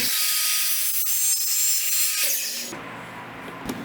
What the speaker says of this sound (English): I screw a stop block to my tabletop to get 8 identical pieces on my miter saw